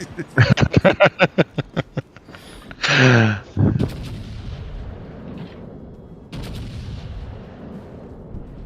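A rapid string of loud gunshots sounds in a competitive video game match during a tournament grand final, followed by a heavy burst and scattered echoing shots under faint background noise.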